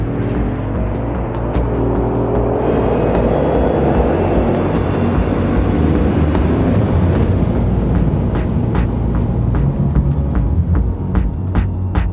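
A Bugatti Chiron hypercar started by push button with the brake pressed, its engine settling into a deep, loud, steady throbbing idle with a low hum, close by and with no talking.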